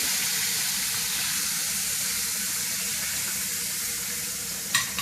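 Monkfish pieces sizzle steadily in hot frying oil as part of a monkfish and clam stew, a dense continuous crackle with a brief sharper spatter near the end.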